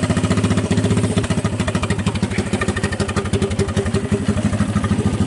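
A Honda ATC200 three-wheeler sits running, its single-cylinder engine putting out an even, rapid, close-up chug with a light mechanical clatter and only slight rises in throttle.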